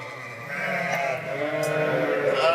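Merino lamb bleating loudly and continuously while caught and held for weighing, a sustained, wavering cry that carries through the whole stretch.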